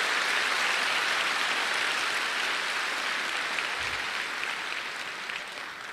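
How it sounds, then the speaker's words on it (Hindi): Large audience at an Amway success event giving loud, dense applause, a steady roar of many hands clapping that slowly fades toward the end, with no talk over it. "एक जोरदार ताली दीजिए ऊपर वाले उस ईश्वर के लिए।"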